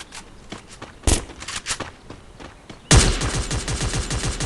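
Scattered shots and footsteps lead into a sudden, loud burst of rapid automatic gunfire that keeps going, with a synthetic, game-like character, in Free Fire.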